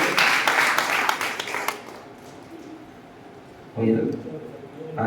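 Loud clapping from a congregation at a Digambar Jain temple during guru bhakti fills the opening seconds, then fades. Speech follows over quieter room noise.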